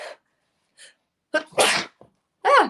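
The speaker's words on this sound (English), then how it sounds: "I just sneezed" A sharp, explosive sneeze up close, preceded by a few short breathy intakes and followed by another sneeze-like burst; no other sound around it.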